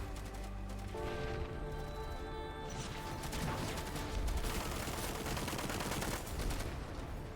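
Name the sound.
gunfire in the video game Rimworld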